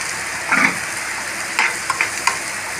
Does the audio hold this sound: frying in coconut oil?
yes